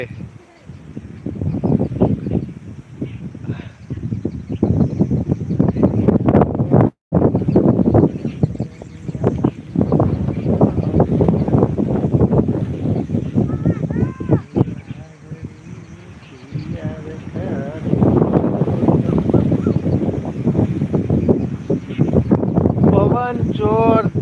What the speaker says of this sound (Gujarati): જોરદાર ફેંકી રહ્યો છે ને જબરજસ્ત પવન ચાલુ છે